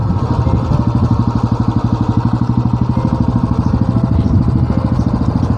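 Royal Enfield Bullet motorcycle being ridden along a road near Mandi, its engine thumping in a loud, steady, evenly pulsing rhythm close to the listener.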